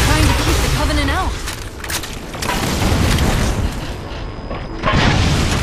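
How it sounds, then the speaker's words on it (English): Hunter fuel rod cannons fire in a Halo 4 battle against Covenant and Sentinels, heavy booms and bursts layered over continuous dense combat noise, with sharp blasts near the start and end. "I forgot that the Hunter's weapons are literally fuel rod cannons."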